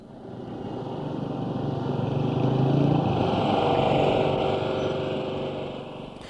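Shopkeepers' power generators droning together in Lahore's Anarkali Bazaar during load shedding, a dense steady engine hum that swells louder mid-way then eases slightly, with no voices.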